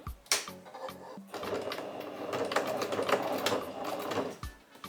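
A home sewing machine stitches a seam on a shirt sleeve, running in a steady mechanical chatter for several seconds after a few handling clicks, close and alone with no talk.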